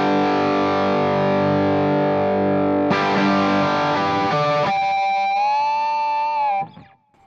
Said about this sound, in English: That's just a great distortion.